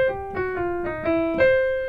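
Jazz piano blues licks strung together in one short phrase, a few detached note clusters with sustained tones ringing between them, close and clear with no talking.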